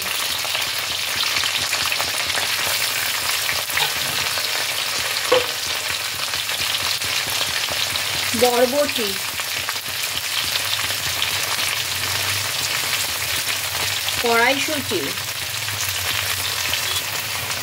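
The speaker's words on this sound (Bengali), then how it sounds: "এই সব কিছু দিয়ে আবারও এটাকে আমি তেলের মধ্যে ভালো করে ফ্রাই করে নেব।" Mixed vegetables, including runner beans, peas, flat beans and tomato, fry in oil in a pan with a loud, steady sizzle that runs throughout, broken only by a couple of brief voice sounds.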